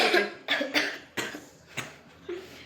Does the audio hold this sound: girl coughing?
yes